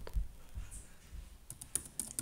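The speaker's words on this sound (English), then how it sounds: "I'm going to type the name of the share" Rapid, close clicks of typing on a computer keyboard, a dozen or so uneven keystrokes in quick bursts with slight pauses, quiet and alone without talking.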